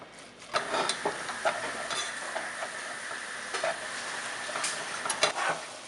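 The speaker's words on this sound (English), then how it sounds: "You just want to stir fry it as is." Pork sizzling and being stirred in a pan with no salt or sugar added, a steady moderate fry hiss broken by scattered scrapes and clicks of a utensil against the pan, with no one talking.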